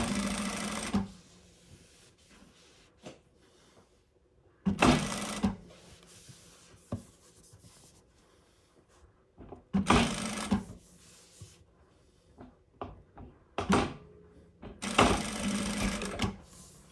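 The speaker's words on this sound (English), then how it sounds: "there we have our little square that we've just sewn in automatic mode" Sewing machine stitching a square in automatic mode, four short loud bursts of rapid whirring stitches separated by quiet gaps with small clicks and handling noises.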